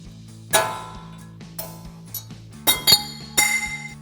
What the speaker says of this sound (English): hit that chisel backwards to pop it out